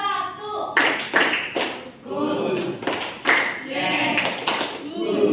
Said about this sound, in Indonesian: Ya, tepuk tangan buat kalian semuanya.